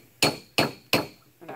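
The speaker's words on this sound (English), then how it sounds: "I'm hammering on the corners, on both sides of the corners, and then on the outside of the corner." A hammer strikes a metal casting's corners: three sharp ringing taps at an even pace, each decaying quickly, followed by a softer fourth knock, close and alone.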